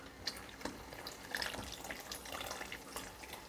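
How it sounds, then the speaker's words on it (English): Hot cream poured into a mulligatawny soup made with fish, making a faint, soft liquid trickle and splash with small drips, close by and quiet. "I've heated up my cream and I'm going to add it to the soup."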